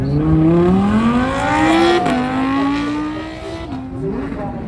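A hypercar accelerates down a runway at a supercar festival, its engine and induction roar climbing through the gears with a sharp shift, then holding a strong steady drone, loud and close throughout.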